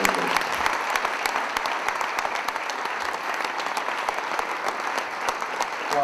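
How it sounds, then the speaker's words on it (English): A banquet crowd at the 2010 South Florida PGA awards night applauds to honor Roger and Dennis, a full, steady burst of clapping from many hands that stays loud and even throughout. "let's honor Roger and Dennis with a round of applause for both of them"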